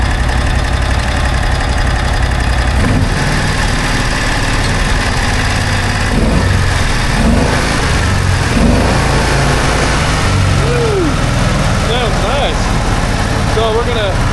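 A buggy engine idles and revs with a few throttle blips, a loud close mechanical drone running throughout while someone talks over it.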